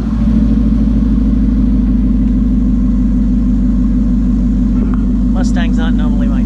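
A Ford Mustang's engine gives a steady, loud low rumble that holds throughout, with a brief voice-like sound rising near the end.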